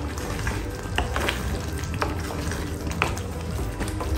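Kasuri methi is stirred into a sizzling kadhi paneer dish, a continuous frying hiss with regular soft scrapes of a spoon against the pan.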